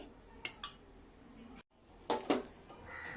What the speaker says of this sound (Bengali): এবার দুধের মধ্যে কাস্টার্ড মিশিয়ে দেব। দেওয়ার সাথে সাথে ভালোভাবে নাড়াচাড়া করে মিশিয়ে নেব